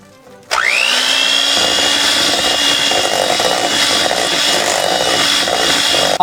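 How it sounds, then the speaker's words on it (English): A mixer beats pumpkin cheesecake brownie batter with firmly packed light brown sugar, starting abruptly and then running as a loud, steady, continuous whir close by. "you want to keep beating it until combined."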